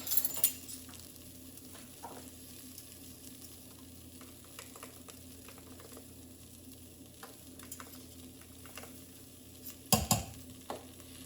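Red lentil dahl simmering in a pot on a turned-down heat, giving a quiet, steady low bubbling and faint sizzle with a few soft stirring scrapes and a louder clatter of the spoon near the end.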